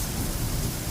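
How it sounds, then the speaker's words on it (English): Heavy rain pours down on a stormy day, a thick, continuous hiss of rainfall with a deep rumbling undertone, unbroken for a brief moment and without any talking. "the laundry has just finished in perfect time for it to be really, really raining"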